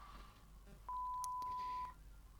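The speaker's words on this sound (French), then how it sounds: "Ah, le téléphone." A telephone gives a single steady electronic beep lasting about a second, clear and close over a quiet outdoor background.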